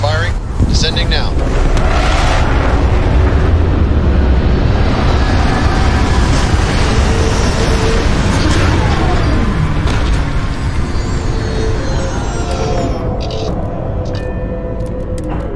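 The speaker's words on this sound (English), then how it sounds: "Thrusters firing. Descending now." Spaceship thrusters roar steadily during a descent in Starfield, a loud broad rushing noise that holds from start to finish, with a voice speaking at points.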